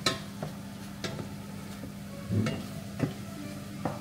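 Fries being stirred together with beef in a pan for a kebab-style kapsalon give off a quiet sizzle, broken by several soft, irregular scrapes and clinks of the utensil against the pan.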